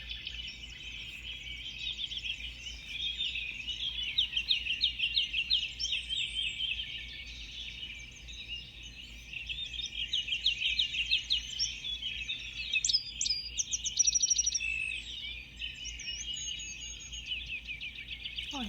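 Recorded forest birdsong from a sound-effect player, with dense overlapping chirps and trills running steadily throughout, some sharper calls standing out near the end, over a faint low background hum.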